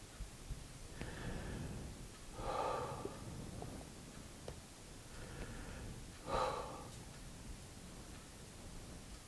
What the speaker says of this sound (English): Breathe out slowly through the mouth, taking longer to exhale than you took to inhale.